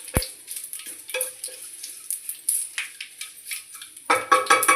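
Garlic and curry leaves crackle in hot oil for a chutney tempering, with a steady hiss, a sharp knock at the start and a louder burst of spatter near the end.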